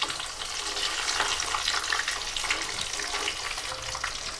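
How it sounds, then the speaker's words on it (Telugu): Cashews fry in hot ghee for a milk sweet dessert, giving a steady, close, dense sizzle and crackle that holds evenly throughout with no talk. "ఫస్ట్ మనం జీడిపప్పు వేసుకుందాం."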